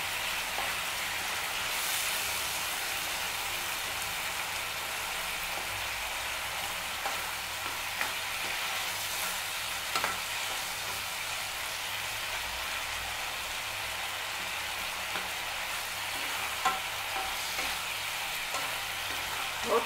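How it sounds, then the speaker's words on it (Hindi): A tomato and peanut curry sizzles steadily in a pan while being stirred, giving a continuous close frying crackle with occasional scrapes. "अच्छे से हिलाते रहिए ताकि ये जले ना,"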